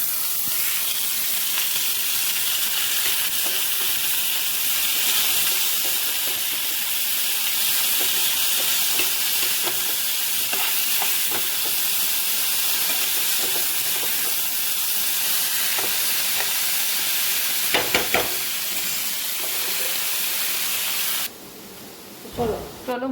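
Bottle gourd frying in a pan on a home stove, a loud continuous hiss of sizzling oil close up, with a few clatters near the end and brief stretches of talking.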